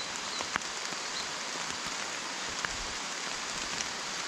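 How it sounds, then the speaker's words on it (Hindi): Heavy rain pours steadily in a rainforest, a dense hiss of drops with scattered louder splats, constant and close throughout. "तेज बारिश शुरू हो गई अचानक से"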